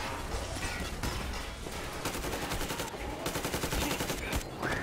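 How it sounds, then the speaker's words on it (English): Sustained automatic gunfire in the Metro Exodus video game, rapid bursts of shots rattling close and loud with dense overlapping reports and only brief pauses. "Because we're getting shot at."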